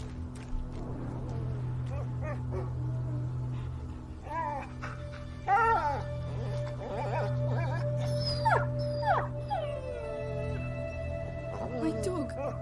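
A dog whimpers, yips and howls in the video game A Plague Tale: Innocence, with rising and falling cries over a constant low ambient drone, while voices talk in between.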